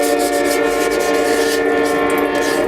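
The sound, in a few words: wet sanding a motorcycle fairing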